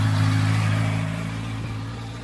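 A motorcycle on a rider-training course holds a steady, buzzing engine tone that fades gradually as it moves away.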